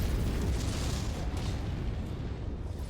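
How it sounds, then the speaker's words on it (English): Heavy artillery bombardment in MechWarrior 5: Mercenaries, a dense continuous roar of rumbling blasts that stays loud and low-heavy throughout, with no voice over it. "Artillery Incoming"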